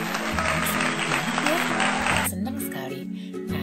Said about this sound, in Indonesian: kita tepuk tangan Yesus dulu yuk.